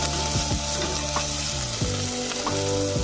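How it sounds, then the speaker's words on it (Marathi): Mixed vegetables for a Maharashtrian Bhogichi bhaji fry in hot oil with a loud, close, continuous sizzle, broken by the scraping knocks of stirring. "त्यामुळे मी या सर्व भाज्या तेलामध्ये परतून घेत आहे।"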